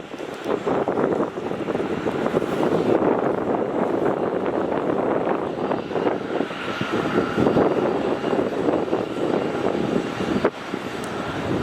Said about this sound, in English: And the Scoot is now taxiing.